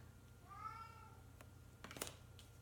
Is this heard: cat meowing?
yes